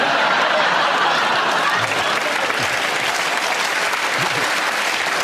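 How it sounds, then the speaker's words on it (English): Studio audience on a radio panel comedy show giving a round of applause after a joke, loud and sustained clapping with a few chuckles and faint talk underneath. "You made a joke and you got a round of applause"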